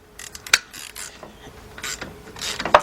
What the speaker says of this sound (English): Now, for the top one, I'm going to use my same 13mm socket.